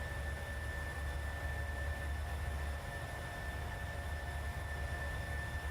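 A PMDG 737-900ER jet in Microsoft Flight Simulator accelerating on departure from Antalya, heard as a steady, fairly quiet engine drone with a low rumble and faint whining tones that hold level throughout.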